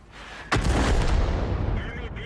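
A tank gun fires in World of Tanks: a single heavy, booming shot that rolls on with a long low rumble and fades slowly.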